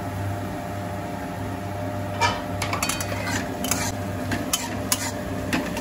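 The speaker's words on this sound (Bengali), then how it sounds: "আমি ঢাকাটা খুলছি এবার।" A lid lifted off a cooking pan of cauliflower. A metallic clack is followed by a scatter of light clinks and ticks over a low steady hum and faint sizzle.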